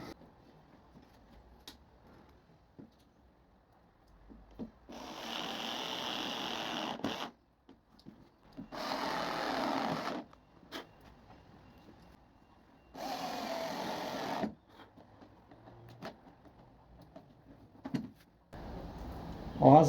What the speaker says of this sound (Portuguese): Eu vou usar aqui a parafusadeira. Agora vamos atarrachar os parafusos.